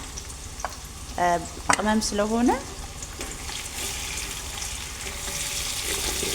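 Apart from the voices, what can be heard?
onions and chicken frying in oil in a big pot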